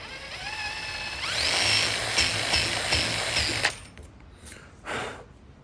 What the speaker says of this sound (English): if you start the drill and it goes in the wrong spot, just angle it to where you want to go